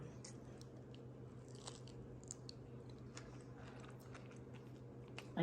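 Someone chewing a ripe fig close to the mic, soft wet squishy bites with small seed crunches repeating irregularly over a quiet hum.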